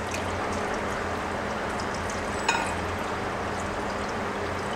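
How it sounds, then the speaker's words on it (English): Water poured over lemon slices in a bowl makes a steady, continuous rushing splash that holds an even level throughout, with one brief brighter clink near the middle and no voices. "Then we pour water over the lemons."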